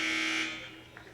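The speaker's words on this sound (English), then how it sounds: "Buzzer sounds" A basketball game buzzer blares loudly in a gymnasium during a college regional final, one sustained electronic tone that fades away after about half a second into arena ambience.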